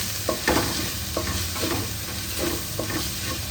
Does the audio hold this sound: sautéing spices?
yes